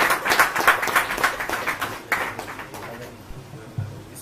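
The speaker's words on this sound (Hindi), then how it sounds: "एक जबरदस्त किस्म की ताली होनी चाहिए।" Applause for certificates and trophies at an award distribution ceremony: a crowd claps in a quick, uneven patter that is fairly close, thins out and fades after about three seconds, with faint voices underneath.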